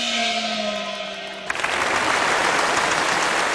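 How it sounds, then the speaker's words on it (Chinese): Loud, sustained applause from a seated theater audience at a live comedy stage show, bursting in suddenly and continuing as a dense, steady wash of clapping after a brief sustained tone. "老少爷们掌声一直不停"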